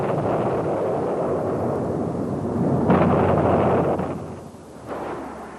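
A laser-guided bomb strikes its target with a deep, roaring blast and a long rumbling wash of debris, swelling again midway before fading, with a later thump.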